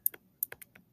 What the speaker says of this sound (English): That's what I'm typing into my calculator.